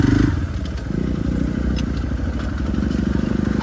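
A motorbike engine rumbles steadily, close and loud, as the bike rides a rough off-road trail near a cave outside Rishikesh, with clattering and scraping from the rocky ground and no talk.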